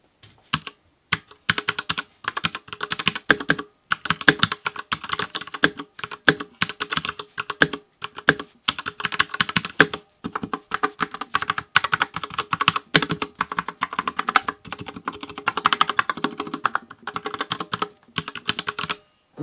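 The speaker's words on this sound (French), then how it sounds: "Pour ma part, j'ai pris les Cherry MX Red, donc je vous fais écouter le sound test" Rapid, steady keystrokes on an Anne Pro 2 mechanical keyboard fitted with Cherry MX Red switches and PBT double-shot plastic keycaps, a dense close-up clatter running continuously with short pauses and no talking.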